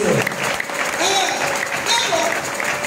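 A church congregation clapping in praise, a dense, even burst of applause filling the room throughout, with faint voices mixed underneath.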